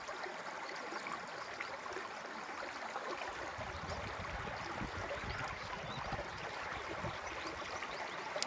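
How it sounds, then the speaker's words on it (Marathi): Clear stream water near a waterfall in Konkan's Sahyadri hills, a steady close gurgling and splashing rush that stays constant throughout, with no talk. "आवाज बघा कसं खळखळता."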